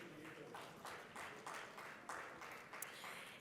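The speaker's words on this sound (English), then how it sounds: "Let's give all of our panelists a round of applause as we welcome them to the stage." Faint, distant applause from a conference audience welcoming panelists to the stage at an education conference in Dubai, steady clapping with soft rhythmic swells throughout.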